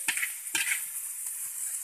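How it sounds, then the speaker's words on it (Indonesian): Nasi goreng mawut, a Javanese fried rice with noodles, being stirred and tossed in a pan, with a few distinct scraping strokes over a steady soft sizzle. "Lalu diaduk, diaduk, diaduk"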